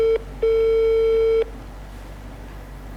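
A telephone rings out while a call is being placed on a TV show: a short steady tone, a brief gap, then a second, longer steady tone, clear and close, followed by quiet line hiss.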